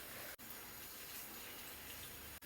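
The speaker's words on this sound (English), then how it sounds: "Just soak it in some water and then just rub it on the solid soap." Water runs in a steady, full gush, as from a tap, while a makeup powder puff is soaked before being rubbed on a bar of solid soap; the flow continues unbroken and close with no talking.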